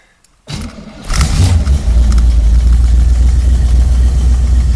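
A 1973 Corvette Stingray engine starts up, then settles into a loud, deep, steady rumble as the car is driven, close and continuous with a slight rise in revs early on.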